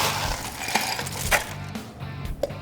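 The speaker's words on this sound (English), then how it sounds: "Lots of ice in the glass." Ice cubes clinking and knocking into a cocktail glass while a dark and stormy is built with Ron Zacapa 23-year aged rum, a few bright chinks scattered over a steady background hum.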